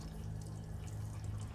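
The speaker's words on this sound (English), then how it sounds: "I hear water running." A household faucet left running, giving a steady, faint hiss of flowing water in a quiet room with no other sounds.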